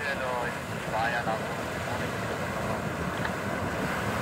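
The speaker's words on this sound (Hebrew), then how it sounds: "איזה גלים, איזה גלים." Wind roars and waves slosh on open water from a moving boat, a steady loud rush throughout with brief indistinct vocal sounds near the start.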